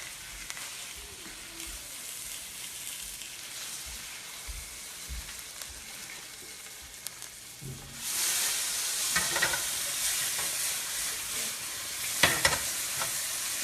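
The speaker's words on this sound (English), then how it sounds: "Now what I'm doing is considered deglazing the pan." A pan used to cook glazed salmon is deglazed: a quiet, low frying crackle with light stirring suddenly swells into a loud, bright hissing sizzle partway through and stays strong to the end.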